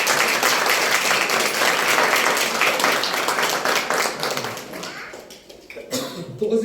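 Applause from a church congregation during a pastor's sermon, dense steady clapping that thins out and fades near the end, with a few scattered coughs.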